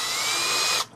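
A power drill whirs at a high, steady pitch for under a second while drilling a hole in a wood fence post, then abruptly winds down.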